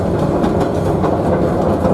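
The Savannahlander passenger train running on rails between Mount Surprise and Einasleigh in outback Queensland, a steady rumbling roll with faint rhythmic clickety-clack from the wheels, close and continuous.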